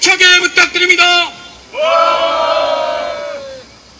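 A crowd at a rally gives a loud, sustained rallying shout, a single swelling roar of many voices lasting about two seconds after a burst of earlier voices.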